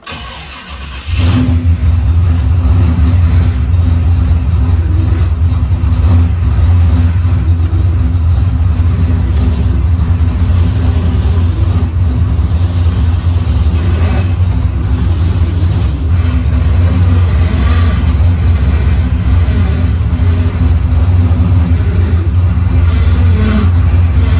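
The engine of a 1966 Pontiac GTO fitted with a hydraulic brake booster cranks, catches and settles into a loud, close idle. A deep rumble runs steadily for over twenty seconds, with no voices.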